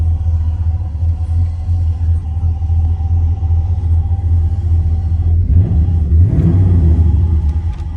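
A 1978 Chevrolet El Camino SS with an LS V8 idles with a loud, deep, steady rumble close up, then briefly revs with a rising growl before settling again.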